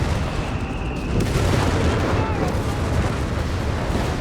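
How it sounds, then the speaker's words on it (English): Strafing run in Company of Heroes 3, a dense rumbling barrage of gunfire and booms rolling continuously throughout, loud and close, mixed with other battlefield noise. "Yeah, that's a strafing, not a bombing run."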